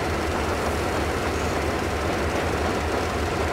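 Train rolling along in the video game Metro Exodus, a steady dense rumble with low rhythmic clatter that stays loud and constant throughout, with no talk.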